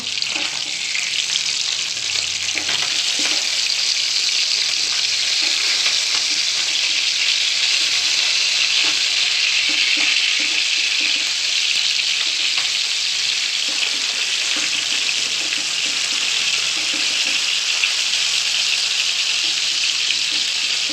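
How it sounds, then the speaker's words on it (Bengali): Tilapia fish sizzles and crackles steadily in hot oil, a loud continuous frying hiss with no talking. "এখন এক এক করে সবগুলো মাছ আমি ভেজে নিব"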